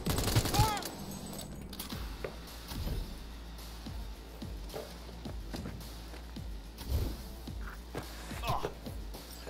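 Gunfire in the video game Cyberpunk 2077 crackles in scattered, faint bursts of sharp shots over a low background rumble, with a voice speaking near the start.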